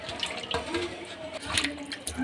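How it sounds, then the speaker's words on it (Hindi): Raw chicken necks being rinsed in a sink under running tap water, with steady splashing and sloshing throughout and a few louder splashes as the pieces are turned; a voice is faintly present. "तकरीबन 2-3 पानी से हमने इनको अच्छे तरीके से वॉश करना है।"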